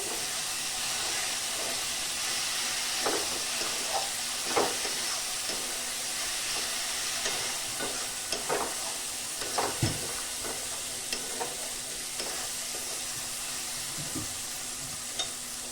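Spice paste of ginger and green chillies sizzles steadily in a pan, with frequent scraping strokes and soft clacks of a spoon stirring it through the dense frying hiss.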